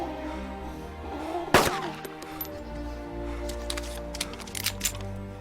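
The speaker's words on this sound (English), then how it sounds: "Oh dear, gunshots. Sound like they're coming up from that hangar up there." A sharp, loud gunshot cracks out in the Arma 2 DayZ mod. Several fainter, rapid shots follow over a low ambient background, with no talking.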